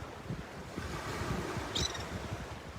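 Ocean waves wash steadily onto the east coast of Vancouver Island, a continuous broadband surf roar with wind buffeting the microphone and a brief higher splash near the end, no talking.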